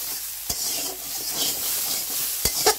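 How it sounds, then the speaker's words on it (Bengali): Shapla (water lily stem) curry with chopped coriander stirred in a pan, a steady sizzle with a few sharp spoon scrapes against the metal, close and alone. "এখন ধনেপাতা কুচি দিয়ে দিলাম। আবার একটু ভালো করে নাড়াচাড়া করে নিচ্ছি।"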